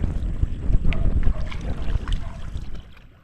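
A small boat moving across floodwater, with rumbling engine or hull noise, splashing and wind buffeting the microphone, fading toward the end.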